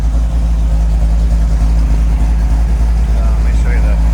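A 1968 Ford Mustang Shelby Cobra GT500 Convertible idles after a cold start, its engine a loud, steady, deep rumble close by.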